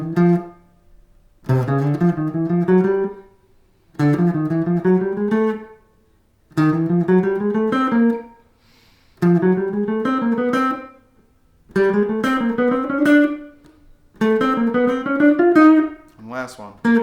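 Triads played up a chromatic scale in a jazz piano exercise, six separate harmonic phrases of stacked chord tones with short gaps between them, clear and close with no talking.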